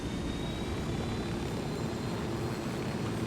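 A steady, dense helicopter rotor and engine roar in Ghost Recon Wildlands holds at an even level the whole time, with no pauses.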